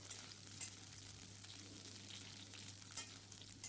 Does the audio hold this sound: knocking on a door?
no